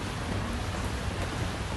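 Rain falling steadily during an outdoor walk at Prince of Songkla University in Phuket, Thailand, a dense even hiss of drops on surfaces at moderate loudness with no voices.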